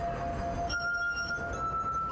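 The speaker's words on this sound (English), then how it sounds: "takes 2 seemingly unmusical items, glass goblets and water, and manages to make music" Glass goblets filled with water are played as a musical instrument, giving sustained, ringing pure tones that shift pitch partway through, with soft clinks beneath, heard clearly and alone.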